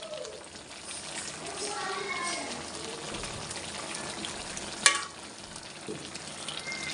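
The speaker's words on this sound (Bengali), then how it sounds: "মাংস দিয়ে কত জল বের হয়েছে এখন ভালো করে নেড়ে দিয়ে এখন এটা আবার ঢাকা দিয়ে দেবো" Chicken curry with potatoes cooks in a pot with a soft, steady sizzle and bubbling while it is stirred, with occasional scraping and one sharp clink of a utensil against the pot.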